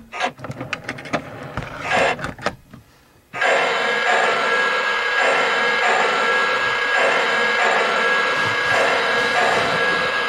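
A Lionel 0-8-0 switcher model locomotive runs on a home layout, first with clattering, uneven rolling and clicks, then after a brief lull a steady, close, continuous motor whir and rumble with a faint high whine throughout.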